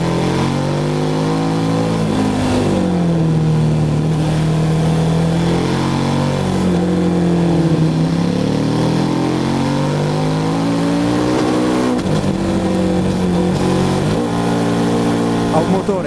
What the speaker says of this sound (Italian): Ha un motore, sentite adesso che botte che dà, che spinge come una bestia ai medi regimi